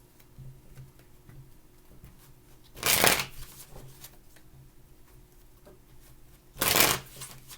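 Tarot cards being shuffled by hand in two brisk, loud riffling bursts several seconds apart, over a quiet background with faint ticking.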